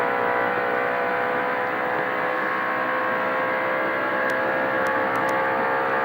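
Onboard engine roar from Rick Wilson's NASCAR Winston Cup stock car racing in the 1988 Champion Spark Plug 400, a steady, loud, unbroken drone with no break or shift in pitch.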